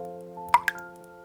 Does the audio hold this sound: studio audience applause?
no